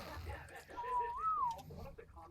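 A game character whistles a single rising and falling tone of about a second, set against rumbling game ambience, with a person's voice talking around it.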